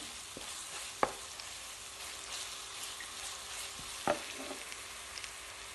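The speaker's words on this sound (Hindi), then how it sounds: "लहसुन को इतनी देर तक भूनें कि 1 से 2 मिनट तक" Garlic fries quietly in a pan for malai methi matar, a soft steady sizzle with a couple of sharp clinks of a spoon against the pan.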